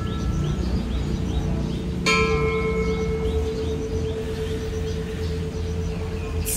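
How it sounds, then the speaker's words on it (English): A temple bell in Chiang Rai, Thailand, is struck once and rings out with a clear, long-sustained metallic tone over steady outdoor background noise. "Someone just rang the bell."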